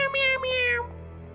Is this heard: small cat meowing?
yes